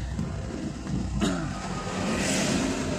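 Vehicles rush past on highway NH144A, a continuous roar of engines and tyres that swells as one passes close by, with steady traffic noise throughout.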